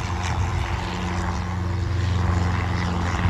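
Propeller plane at a skydiving airfield, its steady droning engine running continuously nearby at a loud, even level with no voices.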